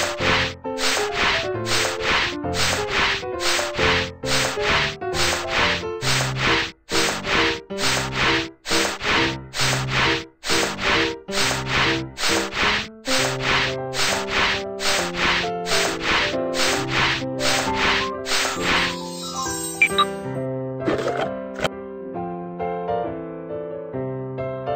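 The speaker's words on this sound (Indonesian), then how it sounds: "Rangka baja sedikit berkarat, bersihkan dengan amplas." Rhythmic rasping strokes of sandpaper rub against a slightly rusty steel frame over and over in a steady back-and-forth pattern, continuing for a long stretch before slowing near the end.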